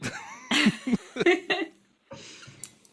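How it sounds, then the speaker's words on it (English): A person clears their throat after drinking apple cider: a few short, rough vocal bursts close to the mic, followed by a quieter rasp. "I'm gonna clear my throat after drinking all of this cider."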